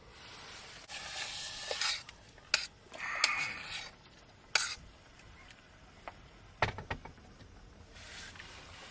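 A full English breakfast fries slowly on a low heat at an outdoor car cookout, giving a soft steady sizzle broken by a few sharp clinks and scrapes of utensils against the pan.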